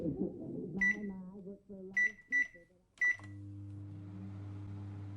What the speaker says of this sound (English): As I popped it into the microwave,